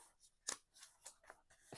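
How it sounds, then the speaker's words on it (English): Scissors snip through paper in a handful of quiet, separate cuts, faint and close with short pauses between, no talking. "you'll just have to cut your paper"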